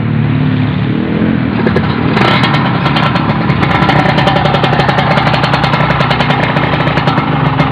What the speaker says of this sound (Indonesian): Kawasaki Ninja R tahun 2004 ya.